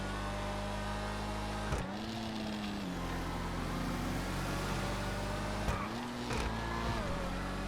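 A Reinhardt car in the GTA FiveM video game drives with a steady droning engine note and two distinct gear-shift dips in pitch, heard close with no talking.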